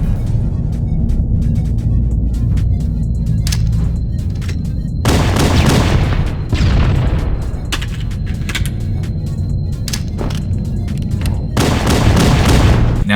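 Grenade blasts and bursts of gunfire from the shooter game Halo: Combat Evolved on the Damnation map, with loud booming explosions at intervals and rapid shots in between, densely layered throughout.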